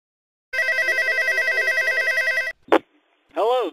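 A telephone rings with a steady electronic warble for about two seconds, loud and close, followed by a short click and a sweeping answering-machine beep tone.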